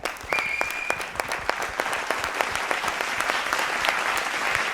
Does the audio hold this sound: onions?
no